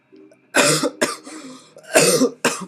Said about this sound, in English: I like had to cough